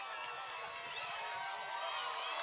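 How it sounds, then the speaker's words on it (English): A football crowd at Windsor Stadium roars in a steady, dense wash of cheering and whoops that swells slightly midway and carries on throughout, with no clear single voices standing out. "And that riles the crowd up here at Windsor Stadium"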